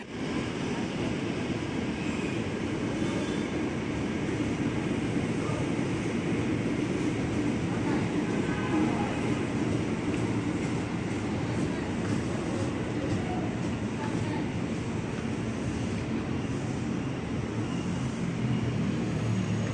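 A twelve-car JRS 205 commuter train rolls into a platform at Bekasi station with a steady, broad rumble and hiss. It holds even and continuous for about twenty seconds at moderate distance, with no clear voices.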